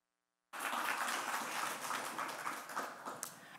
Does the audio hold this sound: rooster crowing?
no